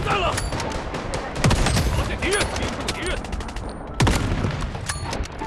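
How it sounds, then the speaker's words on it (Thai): Pistol gunfire in the shooter video game Blood Strike, a dense run of rapid close shots and bursts with a couple of louder booming hits, alongside brief talking. "กูเกือบโดนปืนสั้นยิงน็อก"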